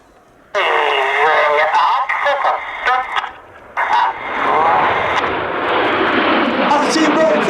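Red Arrows jets flying a Vixen roll at the Duxford Battle of Britain Airshow roar loud and continuous overhead, the jet noise swelling and shifting while an announcer speaks over the public address throughout.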